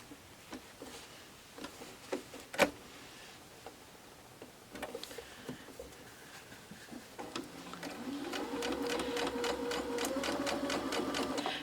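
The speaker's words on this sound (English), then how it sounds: "start here, stitch all the way around the stocking until I get to here" A sewing machine stitches around a fabric stocking, starting with scattered faint clicks and taps, then settling into a steady rapid run of needle strokes that grows louder toward the end, close and alone.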